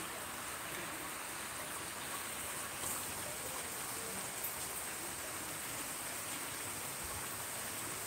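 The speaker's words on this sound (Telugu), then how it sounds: "ఈ రెయిన్ కొడుతూనే ఉంది ఫ్రెండ్స్" Steady rain falls outside, a dense even hiss of drops that holds unbroken and fairly soft from start to finish.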